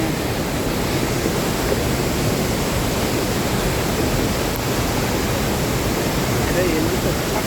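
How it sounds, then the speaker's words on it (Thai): Steady, broadband rushing of Pla Ba waterfall in Thailand, constant and full without pauses, filling the whole scene. "ดูน้ำตกด้วย จะได้เห็นน้ำตกไปด้วยครับ"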